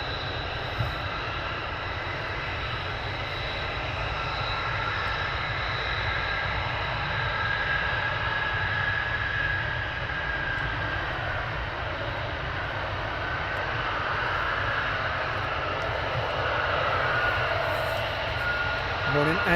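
F-35 fighter jet engines running at RAF Lakenheath, a continuous deep rumble with a high tonal whine that rises and shifts, steady and moderately distant over about twenty seconds, with faint background voices.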